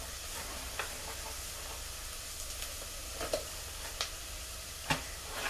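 All-purpose flour is stirred into a sizzling pan, giving a quiet, continuous frying hiss with soft, scattered scrapes and ticks of the utensil against the pan.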